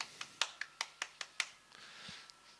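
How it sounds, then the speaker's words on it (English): Light, sparse clapping follows a shot at a golf croquet match. About seven crisp claps come at a steady pace, fairly close, and then the sound fades into quiet outdoor ambience. "So we just go a little clap there to that one"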